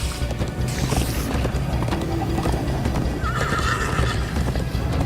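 Horses gallop and neigh in the Minecraft: Story Mode video game, with dense, rapid clip-clop hoofbeats running throughout and a whinny rising partway through, loud and close with no talk.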